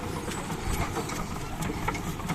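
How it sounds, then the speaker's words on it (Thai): A John Deere 5075E tractor with a three-cylinder turbo engine idles nearby, giving a steady, rough low rumble that holds at a constant level throughout, with no voices. "ก็เป็นเครื่อง 3 สูบครับ 3สูบเทอร์โบครับ"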